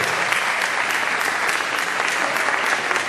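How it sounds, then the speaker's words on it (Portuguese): Theatre crowd at a congress show in Recife applauds loudly and steadily, a thick unbroken roar of many hands clapping. "Palmas para as nossas atrizes da Globo aí"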